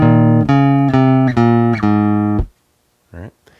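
Bass guitar playing a short bridge phrase: four sustained, evenly spaced notes ring out loud and close, then stop, followed by a brief quieter note near the end.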